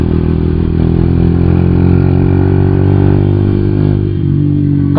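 Modified Yamaha Byson motorcycle with a carburetor, its engine running loud and close in a steady idling drone with mechanical clatter, heard alone for the whole stretch.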